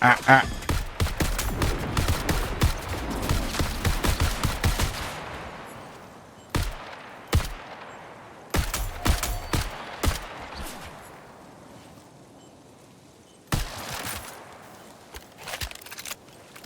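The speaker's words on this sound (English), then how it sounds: "people are here to fucking shoot you" Rapid bursts of gunfire in the video game Marathon, dense and loud for the first five seconds, then scattered single shots and short bursts with quieter gaps between them.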